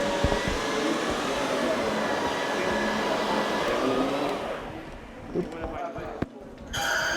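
A cyclonic carpet-cleaning vacuum runs with a loud, steady broadband roar that thins out toward the end, where brief knocks and a higher whine come through.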